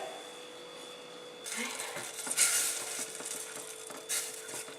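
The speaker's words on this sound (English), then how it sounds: "To make the white sauce, we turn the saucepan up to a medium heat and add the margarine to it." Margarine melting in a saucepan over medium heat for a white sauce, with a soft sizzle and intermittent scraping stirs starting partway through, quiet and close.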